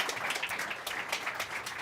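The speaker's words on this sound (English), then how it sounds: "a huge round of applause to you again" Audience applause for a speaker at an Arctic hydrogen side event on Nordic solutions, a steady wash of many clapping hands, faint and distant, with no voices.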